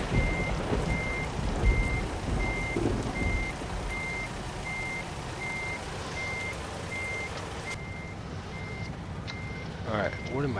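Steady reversing beeps from a big rig truck in American Truck Simulator, a regular evenly spaced tone over a constant engine rumble, with someone talking over it.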